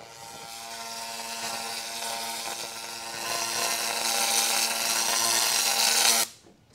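Laser cleaner stripping varnish from the back of an old mirror, a sustained buzzing, crackling hiss with a whining hum that swells louder partway through, then cuts off abruptly near the end.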